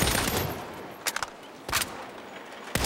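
Gunfire in the Saints Row video game: three or four short separate bursts ring out over a faint background, each a sharp broadband crack standing clear, with no talk.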